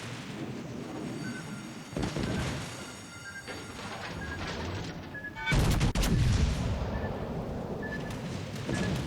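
Naval gunfire from warships in World of Warships Legends, with heavy booming salvos, one large burst near the middle and rumbling battle noise sustained throughout.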